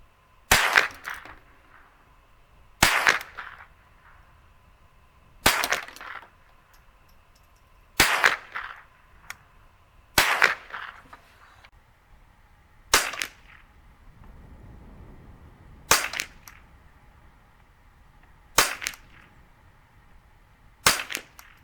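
Sharp single shots from a Marlin Model 60 .22 rifle firing Winchester Western 36 grain bulk ammo, about nine evenly spaced cracks a few seconds apart, each with a short ringing tail, from a shooting bench.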